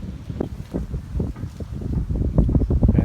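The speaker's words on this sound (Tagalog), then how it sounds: "pasensya na sa hangin, maingay ang hangin" Wind buffets the microphone beside a river during a strong typhoon, a close, rumbling, gusty roar that swells and dips continuously with no speech.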